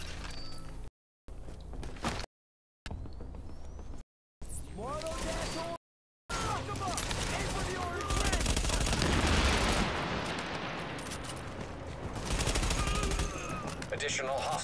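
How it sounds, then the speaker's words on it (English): Rapid bursts of automatic gunfire from a video game firefight, dense and loud, rattling almost continuously with brief cutouts, while a voice speaks over the shooting. "With all that gunfire drawing the Rikers' attention, you're gonna have a nice fat bullseye on your back."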